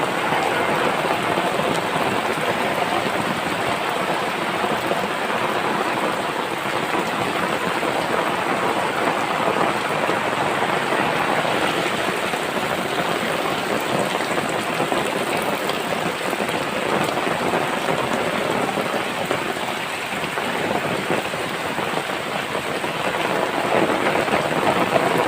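Steady, dense rain falls across a rural countryside setting, a continuous hiss of drops on surfaces that stays even and fairly loud throughout with no voices.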